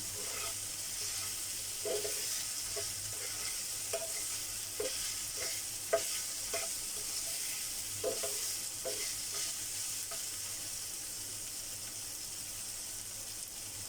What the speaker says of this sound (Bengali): এখানে নিচ্ছি কাঁচামরিচ আর একটা টমেটো একটা টমেটো হাফ মিশিয়ে নেবো ভালো করে